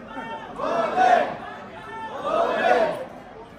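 A packed temple crowd chatters, many voices blending into a loud, close murmur that swells twice as people push through.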